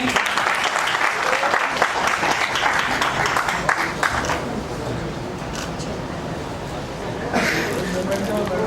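Loud, sustained applause from a large crowd fills a state-level felicitation ceremony for nurses and teachers, continuous clapping throughout with voices mixed in and a brief swell near the end.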